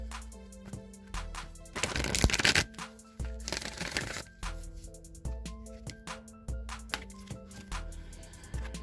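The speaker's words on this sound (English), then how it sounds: "All right, one more shuffle here." An Oracle card deck being shuffled by hand, close and fairly quiet, with two longer riffling bursts early on, then a steady run of soft, rhythmic card taps and slides continuing to the end.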